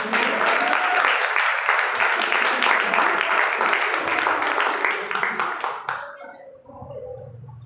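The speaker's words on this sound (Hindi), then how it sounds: "आपकी जोरदार तालियों में।" Audience applause at a one-day church seminar at Bethel Church, a dense, steady clapping that fills the room for about six seconds and then tapers off, with faint voices underneath.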